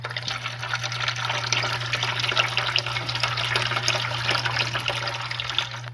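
Water runs steadily and gurgles through an aquarium media reactor while GFO media is given its first rinse. The flow stays even throughout, over a constant low pump hum, with no talking.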